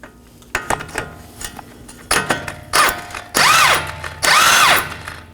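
Ratchet wrench snugging an 18mm nut onto a CV axle stud on a 2018-2024 Chevrolet Equinox, short bursts of loud, close ratcheting clicks that lengthen into sustained rapid cranking runs.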